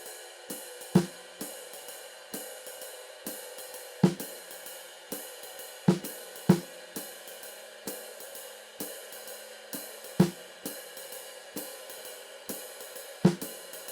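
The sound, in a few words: jazz drum comping on ride cymbal, hi-hat and snare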